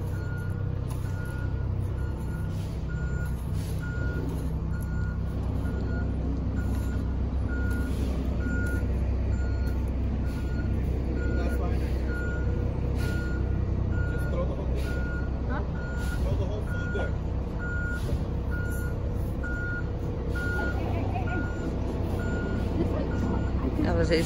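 A large truck's reversing alarm beeps in a steady, regular rhythm over a low diesel engine rumble at a new construction site, with occasional voices in the background.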